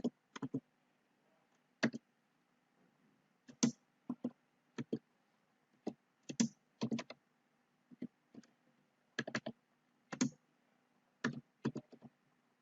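Computer keyboard being typed on in scattered short bursts of sharp clicks with pauses between, close and clear against a quiet background.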